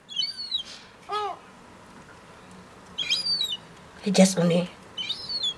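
Wild birds outside a window give several short bursts of high chirping and tweeting, spaced apart, with a person talking briefly in between.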